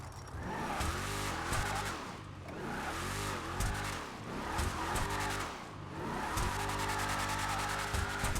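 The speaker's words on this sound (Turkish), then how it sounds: "V8 drift." A V8 car drifts in the Assetto Corsa video game, its engine roaring steadily with rising and falling revs while tires squeal throughout, loud and continuous, with no talking.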